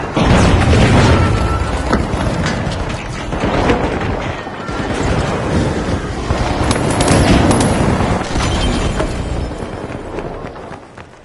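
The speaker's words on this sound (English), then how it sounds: "Pyro grenade!" Pyro grenade exploding in a video game fight, heavy booms and crashing bursts mixed with continuous loud combat noise throughout.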